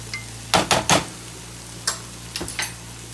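Mustard and vinegar are stirred into onions cooking in a pan for a spicy onion sauce, a few brief scraping clatters of a utensil in two clusters over a low steady hum.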